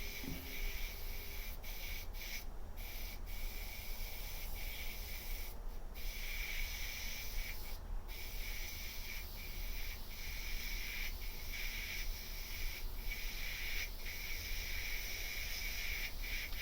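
Continuous steady hiss of an airbrush spraying dark paint onto an Alien Xenomorph model, a fairly noisy brush, held close and even throughout with brief sharper bursts.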